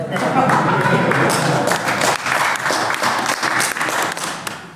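Audience clapping hands during an Islamic religious lecture, loud dense applause that swells and then thins into separate claps near the end, with voices talking over it.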